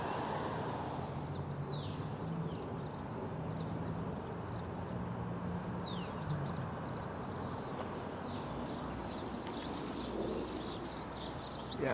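Birds in the palm trees of Hollenbeck Park in Boyle Heights chirp and tweet in quick, high bursts. They are faint at first, then busier and more frequent, over a soft wash of distant city noise.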